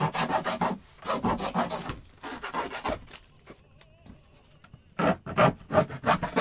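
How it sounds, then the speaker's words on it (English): A blade saws through cardboard flaps on a large shipping box for a fragile antique, with rasping, scraping strokes in rhythmic bursts, a quieter pause in the middle, close and fairly loud. "We're just cutting off some more flap."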